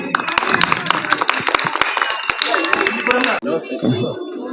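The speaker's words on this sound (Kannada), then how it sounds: "ಹಾಗೆ ಚಪ್ಪಾಳೆಯ ಮೂಲಕ ಧನ್ಯವಾದಗಳನ್ನು ಅರ್ಪಿಸ್ತೀವಿ." Dense rhythmic clapping from a crowd at a school Independence Day celebration, loud and sustained for several seconds before easing off, with a voice over the applause near the end.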